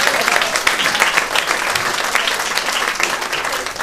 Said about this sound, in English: Give it up for Fetch!